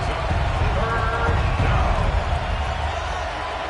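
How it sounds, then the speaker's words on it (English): A stadium crowd at an American football game roars as a broad steady wash of cheering, rising slightly and then easing, heard with faint talk mixed in. "Crowd noise rises."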